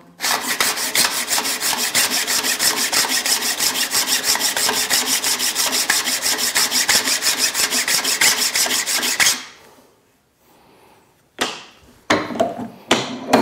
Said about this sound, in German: Jetzt kommt die feine Feile.